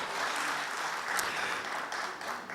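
Audience applause at an event celebrating the 60th birthday of the Friedrich Naumann Foundation for Freedom, a steady dense wash of clapping that holds at an even level throughout.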